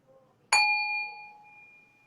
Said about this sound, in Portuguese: Isso aqui é um sino tibetano.